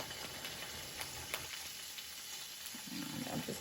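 Tofu fries in hot oil for Panang curry, a steady bright sizzle and crackle heard close, with occasional stirring and a slight swell of hissing near the end.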